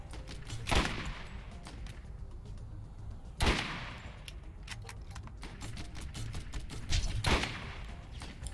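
Gunfire from weapons in the video game Borderlands: rapid bursts of repeated shots with a few heavier, louder blasts standing out, sustained over several seconds with no talk.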